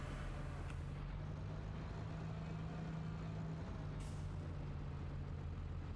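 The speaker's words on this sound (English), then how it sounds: "We need the truck." A truck in Farming Simulator 25 idles with a steady low engine drone, and short hissing air brake releases come through near the start and again around four seconds.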